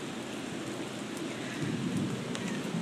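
Steady rain falling outside a window, a dense, even hiss of drops that grows slightly heavier toward the end, with no voices.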